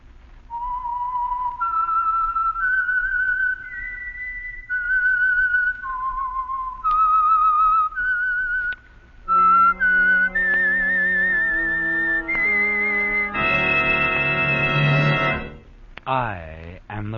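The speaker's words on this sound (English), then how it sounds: "the signal to listen for is this whistle that identifies the Signal Oil program" Signal Oil program theme from the radio drama The Whistler, a lone human whistle carrying a slow eerie melody of held notes, then joined by orchestral chords that swell and end with a sharp sting.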